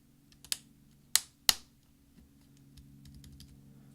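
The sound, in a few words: MacBook Pro keyboard key clicking into place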